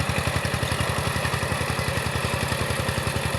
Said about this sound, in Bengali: আপনারা দেখতে পাচ্ছেন সাইবিন 12 হর্স পাওয়ার ইঞ্জিন, সাথে আছে 18 ব্লেড পাওয়ার টিলার